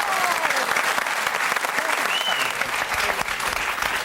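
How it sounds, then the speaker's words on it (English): Studio audience applauding steadily and fairly loudly throughout at a Christmas special of a TV music quiz show, dense clapping with crowd noise and no break. "A round of applause for our shepherd, Cal Wilson."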